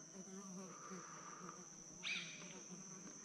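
A wasp nest hangs on a branch by a river, giving a steady, faint insect buzz with a brief louder burst midway, and no talking is heard.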